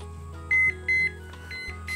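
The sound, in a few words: alarm beeping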